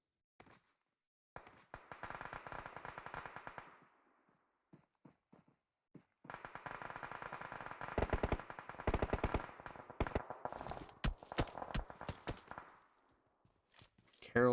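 Rapid bursts of automatic weapon fire in a competitive battle royale match, sustained rattling volleys mixed with sharp single shots and footsteps, loud and up close, with a commentator talking over parts of it.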